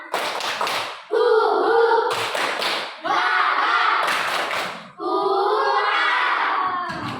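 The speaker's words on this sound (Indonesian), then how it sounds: "Lebih semangat lagi. Tepuk semangat." A classroom of children does an energetic rhythmic clapping chant, with sharp clap bursts punctuating loud group chanting in several phrases, close and lively.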